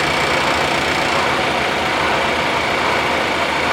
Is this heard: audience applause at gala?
no